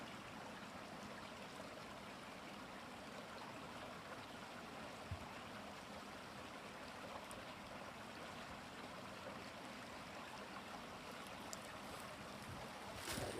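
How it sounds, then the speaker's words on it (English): A stream flows near a stand of trees, giving a steady, faint wash of running water that stays even throughout with no voices. "That's the flowing water there you were hearing while we were playing"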